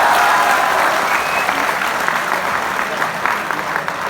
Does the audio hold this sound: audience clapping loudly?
yes